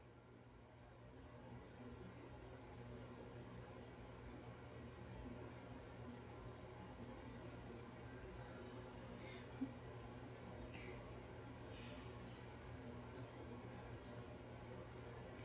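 A computer mouse clicking, close and quiet, with about a dozen crisp single and double clicks spread irregularly over a steady low hum.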